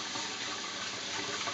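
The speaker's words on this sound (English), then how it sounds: "then you got to rinse it with about at least 5 pans full of freezing cold water" Cold water pours steadily and loudly over wheat-flour lo mein noodles being rinsed in a pan, a continuous close splashing rush with no voices.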